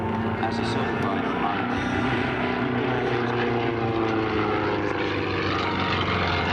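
A Sukhoi SU-26M aerobatic propeller plane performing at the Sun 'n Fun airshow, its loud droning engine roar steady and continuous throughout, with an announcer talking over it on the public address.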